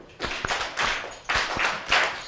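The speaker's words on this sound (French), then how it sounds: "Bravo, on applaudit pour elle." Classroom pupils clapping for a team during a reading class, a few close, uneven bursts of hand claps with sharp individual slaps, brief and fairly loud.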